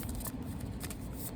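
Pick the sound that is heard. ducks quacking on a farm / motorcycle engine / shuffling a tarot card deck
shuffling a tarot card deck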